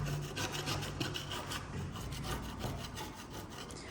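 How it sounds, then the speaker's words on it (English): A scraper drags across a surface to lift residue during a home renovation, a steady rough rasping that continues without a break, close and fairly loud. "It's still scraping some of it off, but it's definitely not as clean as here."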